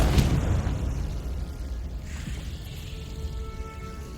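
A Confringo fire spell blasts in Hogwarts Legacy, a loud explosive burst at the start that decays into a rumbling, crackling tail, with a whooshing swell midway and no talk.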